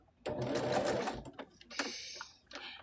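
Close up, a sewing machine stitches quilt fabric in a quick whirring burst that stops, followed by a few soft clicks and a short second run; a voice talks faintly at times.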